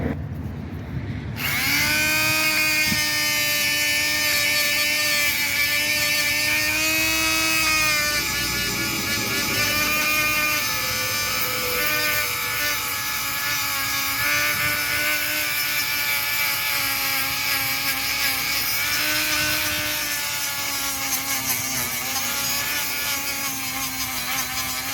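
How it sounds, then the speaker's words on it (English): A Dremel fitted with a 60-grit bit and a rotary sander carrying 120-grit sandpaper grinding down gouges on a multi-colored wheel rim, loud, close and continuous with a high motor whine and shifting pitch as pressure varies. "I have a Dremel with a 60 grit bit, and I have a piece of sandpaper that's 120 grit here on my rotary sander"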